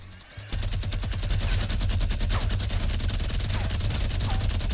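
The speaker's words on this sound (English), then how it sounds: "Ready, minigun him in a minute. 3, 2, 1, unload." A minigun in Fortnite opens up after a brief lead-in and fires a long, unbroken stream of rapid, evenly spaced shots, loud and close, continuing to the end.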